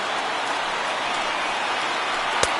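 A crowd of over 37,000 in a baseball stadium in MLB The Show rises to its feet, making a steady, dense wash of cheering noise that holds evenly throughout with no commentary over it.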